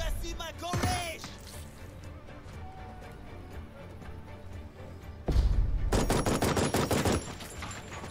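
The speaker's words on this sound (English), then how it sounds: "that machine gun is beyond cruel" Bursts of machine gun fire in Jagged Alliance 3, loud rapid volleys around the start and again in a dense sustained stretch near the end, with quieter battle ambience between.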